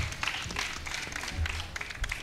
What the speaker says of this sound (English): can we please give these brave girls another round of applause